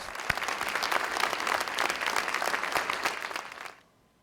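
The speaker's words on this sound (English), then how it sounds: "you guys deserve a huge round of applause" Students from Huntsville Center for Technology receive a round of applause at a press conference for a lunar lander naming contest. The dense clapping is steady and fairly close, then cuts off abruptly near the end.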